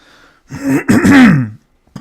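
A loud, close throat-clearing cough, a harsh rasping burst that stretches for about a second with a voiced rumble.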